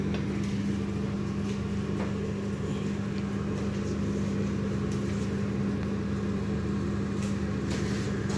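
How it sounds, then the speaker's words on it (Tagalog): A microwave oven runs with a steady, even electrical hum and fan whir, unbroken from start to end. "Lagyan natin sa microwave"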